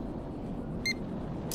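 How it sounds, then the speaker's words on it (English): A camera beeps once inside a UFO sightings simulator game, a short high electronic tone over a low, steady game background hum, followed by a brighter burst near the end. "Oh, see how it beeped?"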